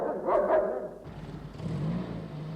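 A cartoon dog barks twice in quick succession, close and fairly loud, in a 1969 children's animated series.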